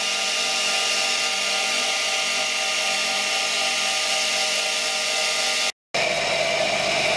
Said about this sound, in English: I'm grinding it down on a 240 grit wheel